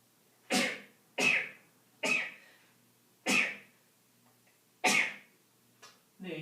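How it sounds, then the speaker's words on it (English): A series of sharp, explosive sneezes, five or six spaced about a second apart, fairly close, with quiet gaps between them. "I think I have to sneeze"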